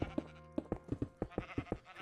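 Sheep in a farm-building video game bleat in a quick series of short, close calls, about a dozen bleats over two seconds, some overlapping.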